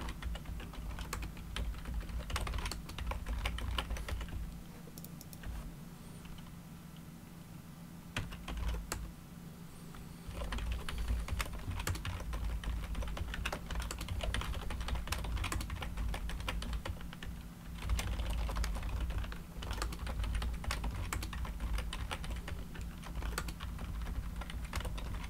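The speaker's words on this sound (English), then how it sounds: "It's a lot of typing, but it's for a good cause." Computer keyboard typing as network commands are entered, rapid continuous clicking keystrokes in quick bursts with a short pause midway, close and quiet over a low steady hum.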